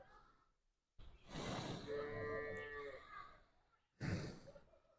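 A cow moos loudly and close by, a long drawn-out low call with a harmonic tone, followed by a short second bellow after a pause.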